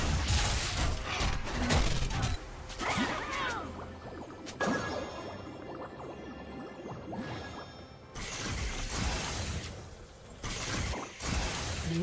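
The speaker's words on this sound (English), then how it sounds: "Blue team's turret has been destroyed." A turret being destroyed in League of Legends, with loud crashing, shattering impacts and bursts of game combat effects spread through the clip, broken by brief quieter gaps.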